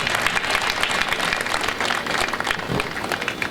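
Lecture audience applauding in a hall, a steady dense wash of many hands clapping that holds at an even, fairly loud level throughout.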